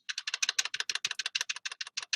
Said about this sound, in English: This information I'm typing in now came from that